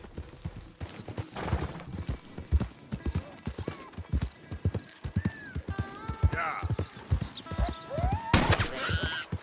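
Horse hooves clip-clop steadily through a ride in the video game Red Dead Redemption 2, with a whinny and a few sharp effects rising near the end, while voices talk over the hoofbeats.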